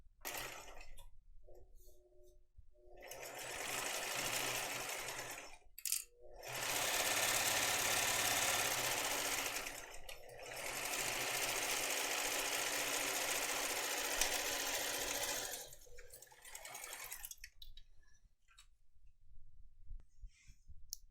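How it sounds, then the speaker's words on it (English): A sewing machine stitches along both sides of a vinyl tote bag, whirring in two long runs of a few seconds each, broken by short pauses and quieter starts and stops. "I'm going to sew along here for both sides."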